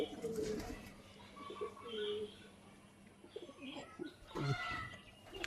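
Pigeons cooing inside a netted rooftop pigeon house, several low rolling coos in uneven bursts close by, with faint chirps and a voice talking quietly at times.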